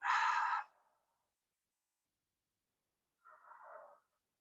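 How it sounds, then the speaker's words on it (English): A deep breath released during a guided spine, shoulder and neck mobility stretch, with a strong breathy burst at the start, a long pause, then a softer, shorter second exhale, close and alone. "Nice deep inhale in and exhale out."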